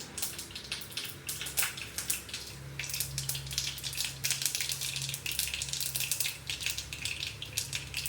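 Bitter gourd fries in hot oil in a pan, a soft, continuous crackling sizzle with small pops throughout.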